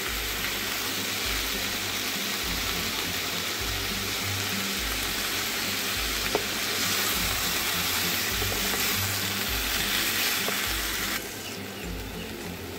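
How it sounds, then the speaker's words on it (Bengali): Spices and ginger paste fry in a pan with a steady low sizzle and faint stirring, an even, moderately quiet hiss that continues throughout and dips near the end, with no voices. "কিছুক্ষণ কষিয়ে নেওয়ার পর দিয়ে দিচ্ছি আদা বাটা"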